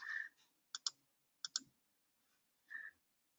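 Sharp computer mouse clicks, a single click followed by quick double clicks, crisp and close in an otherwise quiet room.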